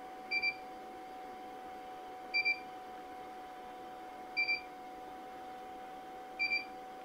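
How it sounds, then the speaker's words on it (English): Roland BN-20A printer beeping during maintenance, four short double beeps repeating about every two seconds over a steady low hum, fairly quiet and with no talk. "So I got so much beeping going on right now."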